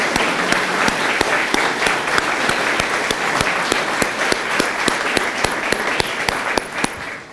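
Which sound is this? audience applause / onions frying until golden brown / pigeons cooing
audience applause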